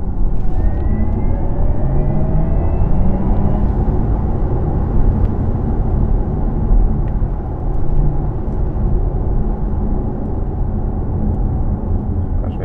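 Porsche Taycan electric car accelerating with its synthetic engine sound, a loud continuous deep hum and rumble heard from inside, with faint rising tones sweeping upward as speed builds.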